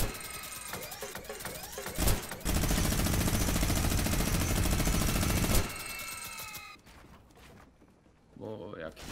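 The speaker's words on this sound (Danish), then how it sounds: "En minigun, den tager jeg." Long, continuous, very loud burst of minigun fire in Fortnite lasting about three seconds, preceded and followed by other game effects and footsteps, with talking over the action.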